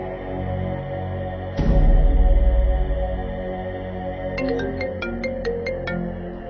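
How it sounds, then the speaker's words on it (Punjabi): A phone rings repeatedly during an outgoing call, a series of short, evenly spaced electronic ring tones over a low steady background hum, with no talking. "ਮੈਂ ਹੁਣੇ ਕਰਦਾ ਐਸਐਚਓ ਨੂੰ ਫੋਨ।"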